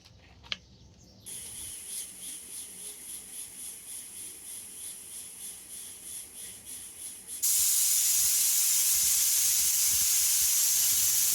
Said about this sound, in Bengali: প্রেসারে 3টা শীষে আসছে, আমি এখন প্রেসার কুকারটা বন্ধ করে দিলাম।